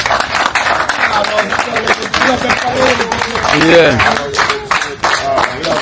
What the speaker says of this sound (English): We'll give all of a round of applause,